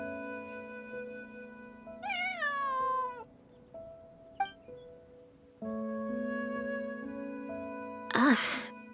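Bonnie the cat in the video game Genshin Impact, giving several distinct meows with pauses between them over faint background music, ending in a short, higher cry.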